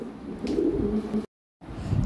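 Lahori pigeons with red beaks, a red-eyed bloodline pair, cooing in low, rolling murmurs, steady and fairly close, broken by a short gap of silence before the cooing resumes.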